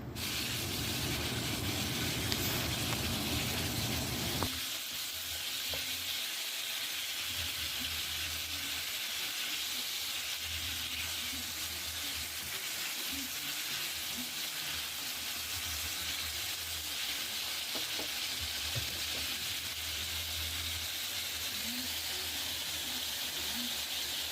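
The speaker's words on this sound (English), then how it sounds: "Be sure to stir your steak bites because you do want them to brown evenly on each side." Steak bites searing in a pan, a faint, steady hiss and sizzle with occasional light stirring scrapes, louder for the first few seconds and then softer and even, with no speech.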